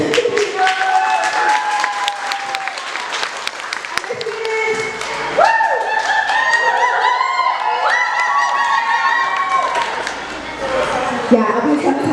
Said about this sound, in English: Give her a clap anyways.